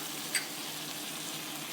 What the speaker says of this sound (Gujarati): હવે વટાણા ઉમેરી દઈએ.